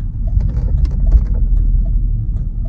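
A 1998 Buick Riviera with a 3.8 liter supercharged V6 produces a steady low engine rumble while driving, with a few faint chirps above it.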